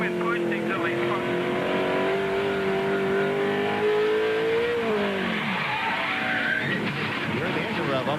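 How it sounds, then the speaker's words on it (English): Race truck engine revving hard during a crash at the 2001 OSH 250, a loud steady engine note rising and holding, then dropping away, with commentary voices talking over it throughout. "You heard the engine rev up like somebody got behind him and lifted the wheels off the ground"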